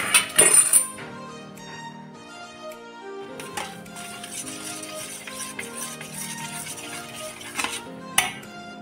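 A spoon clinks and scrapes around a bowl as sugar is stirred into yogurt for homemade dahi vadas, with steady close clatter and a few sharper knocks over a soft tonal background.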